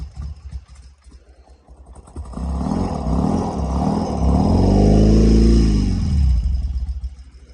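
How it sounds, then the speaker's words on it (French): A BMW R80G/S flat-twin motorcycle engine cranks and catches, then runs loudly, revving up and settling into a steady idle before tapering off. "Une moto qui tourne rond, et qui ne fume pas."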